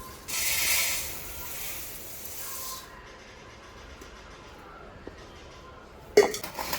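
Dry puffed rice poured into a bowl for a street-food style snack, a loud rushing, rattling pour for a few seconds, then quieter clinks and a sharp clatter at the end.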